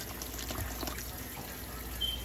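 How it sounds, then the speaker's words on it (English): Water poured into a pot of birria roast and broth, a soft steady splashing and trickle that runs evenly throughout at low volume. "so I'm going to put a little more water like I said"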